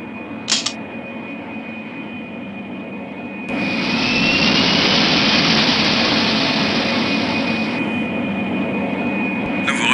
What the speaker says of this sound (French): Nous sommes prêts à décoller.